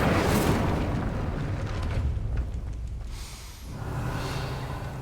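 Incendio, a fire spell in Hogwarts Legacy, erupts as a loud, dense roaring whoosh that fills the moment, swells again after a brief dip and keeps burning steadily.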